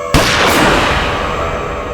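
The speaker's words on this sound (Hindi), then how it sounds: "फिर मैंने गोली चलने की आवाज सुनी।" A single loud gunshot cracks sharply and then echoes into a long, rumbling decay.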